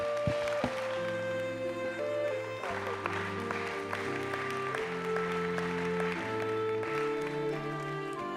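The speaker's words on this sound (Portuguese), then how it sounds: "Então vamos dar um aplauso em homenagem ao nosso querido irmão Lim." A congregation claps through a memorial homage at a church service, broadband applause running steadily under loud sustained organ or keyboard chords.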